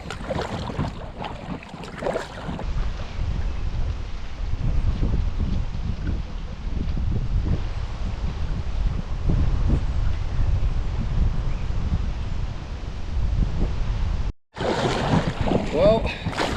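Big waves slosh and splash against a small boat on a lake stretch of the Aare river, a constant close rumble of churning water and wind, with a brief dropout near the end.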